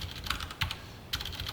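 Computer keyboard keys tapped for a Ctrl+F shortcut, a few quick close plastic clicks in a short irregular burst.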